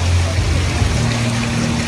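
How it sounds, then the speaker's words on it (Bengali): Steady rushing water from a restaurant water feature flows continuously and fairly loudly, a constant broadband wash with a low hum underneath and no voices. "সেই টেবিল দিয়ে দেখো কিভাবে পানি চলে আসছে"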